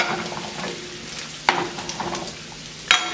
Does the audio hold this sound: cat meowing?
no